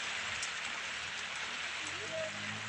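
Light rain just beginning to fall, heard as a steady, even hiss of drops across the whole moment, close and fairly quiet.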